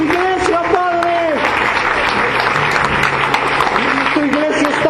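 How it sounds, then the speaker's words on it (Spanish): A church congregation breaks into warm, continuous applause as an offering of praise, with a voice speaking over the steady clapping. "Vamos a darle una ofrenda de amor a través de unos aplausos"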